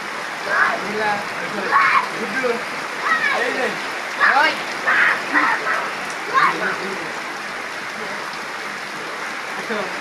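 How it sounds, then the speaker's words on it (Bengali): Heavy rain hisses steadily throughout while a person talks in short bursts over it. "আরো জোরে বৃষ্টি আসতেছে"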